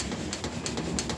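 Lahore pigeons cooing close by in a soft, steady low warble, with a few faint higher chirps over a constant background hum.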